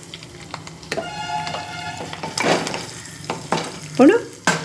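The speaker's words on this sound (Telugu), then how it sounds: "తాలింపు అయితే బాగా వేగిపోయింది ఇప్పుడు కొంచెం ఇది వేసుకుందాం ఇంగు కూడా వేసుకుందాం" Tempering spices fry in hot oil as asafoetida goes in, a close crackling sizzle broken by clinks and scrapes of a utensil against the pan, with a brief burst of sizzle near the end.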